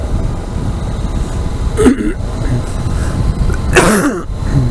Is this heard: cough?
yes